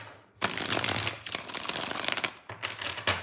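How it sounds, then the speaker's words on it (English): A deck of tarot cards being shuffled up close during a card reading, with dense riffling and snapping bursts, a short pause, then one more quick shuffle. "3 shuffles."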